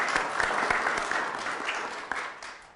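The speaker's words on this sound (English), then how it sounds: "please at least give everybody a round of applause" A small audience at a town council meeting gives a short round of applause, with scattered individual claps audible in a modest, fairly close room.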